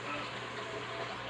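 Water pours steadily from a tap or hose at close range, a continuous broadband rushing gush with no clear breaks, heard in a home kitchen setting.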